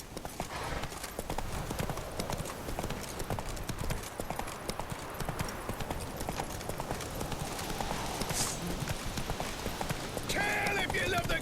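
A horse gallops in The Witcher 3: Wild Hunt, its hooves clip-clopping in a fast, steady rhythm throughout, near and prominent, with speech heard briefly over the hoofbeats.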